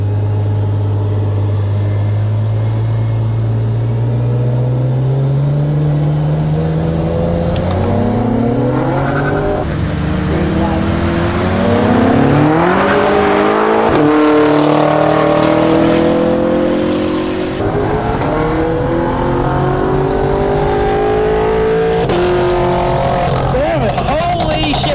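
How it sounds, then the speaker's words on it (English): A BMW M5 engine revs hard at a roll race, its note climbing and falling through repeated loud acceleration pulls as the car races close by, with voices talking over it. "Man, it sounds so good, that M5."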